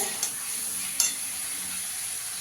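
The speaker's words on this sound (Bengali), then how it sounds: "দিয়ে ভালো করে কষিয়ে নেবো ফুলকপিটাকে" Cauliflower stir-frying in a pan gives a steady hissing sizzle with two light scraping clinks of stirring, close and without voices.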